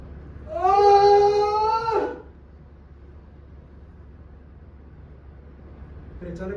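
A baby cries out once in a loud, wailing burst lasting about a second and a half, then quiet room tone follows, with a faint sound rising again near the end.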